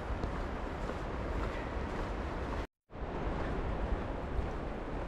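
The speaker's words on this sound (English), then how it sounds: "It's just a pity it's so windy today." Strong wind buffets the microphone in a loud, continuous roar on a coastal spit near Klaipeda, Lithuania, broken by one brief moment of silence before the gusting resumes.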